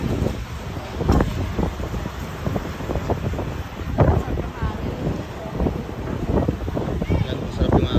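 Wind at the seaside buffets the microphone in continuous rumbling gusts, with surf-like wash in the background and voices talking over it.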